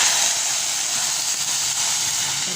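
Water poured into a hot pan of sautéed onion for a Filipino dish of saba bananas sends up a loud, steady steam hiss that fills the short stretch without a break.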